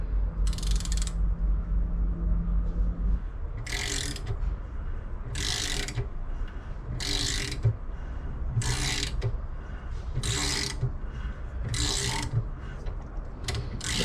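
Tap cutting threads in metal for motorcycle rearsets, worked back and forth in a steady rhythm of ratcheting, grinding bursts repeating about every one and a half seconds, close and alone.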